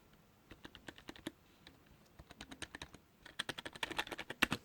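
Keys are pressed on a SteelSeries Apex 3 RGB gaming keyboard, with close, crisp clacks that start sparse and irregular and then quicken into a louder, denser burst of typing.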